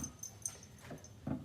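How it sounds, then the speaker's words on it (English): A dog whimpers faintly in the background in a few short whiny yips and whines, spaced across a quiet indoor moment. "excuse the whiny dog in the background"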